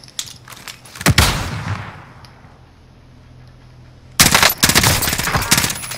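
AK rifle fire in the Warzone video game: a sharp burst near 1 second trailing into a fading echo, then dense, loud rapid automatic fire from about 4 seconds to the end.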